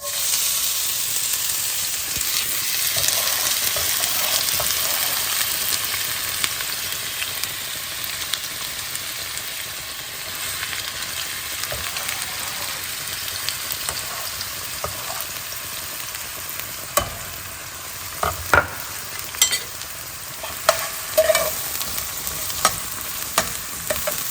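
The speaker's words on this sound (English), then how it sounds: "Oil is hot. So let's go ahead and first put all the finely chopped onions." Finely chopped onions frying in hot oil produce a continuous close, hissing sizzle that settles slightly over time, with scattered clicks and utensil taps growing more frequent toward the end.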